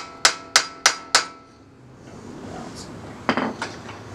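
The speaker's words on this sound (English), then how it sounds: "And you push it with a hammer until it doesn't want to move." Hammer striking metal during a car brake job: four sharp, evenly spaced ringing blows, then a pause and a few quicker, lighter taps and clatters nearby.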